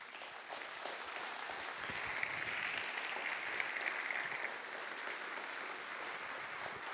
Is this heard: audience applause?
yes